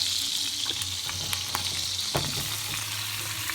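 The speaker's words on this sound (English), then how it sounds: "We're going to take that over to the stove and we're going to start sweating that out." Chopped vegetables sweat in a hot pan on the stove for a pescatarian cornbread stuffing, giving a steady, close sizzle with a few soft stirring scrapes partway through.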